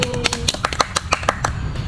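A small group claps together for Egi, a burst of quick, uneven, close claps of moderate loudness running about two seconds.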